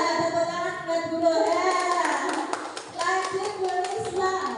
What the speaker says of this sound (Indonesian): Tepuk tangan buat guru.